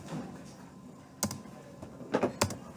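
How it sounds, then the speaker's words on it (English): A few soft computer keyboard key clicks, including spacebar presses, sounding faintly and sparsely over quiet room tone. "So as you're going to press your spacebar,"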